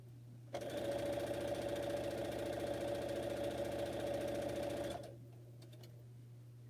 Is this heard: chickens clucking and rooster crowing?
no